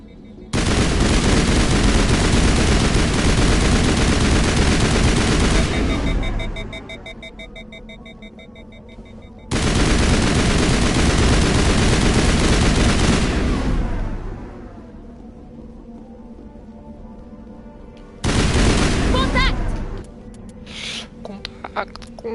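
Automatic gunfire from the video game Mass Effect 1 rattles in two long, loud, dense bursts, each several seconds long, with quieter game sounds between them and a shorter burst near the end.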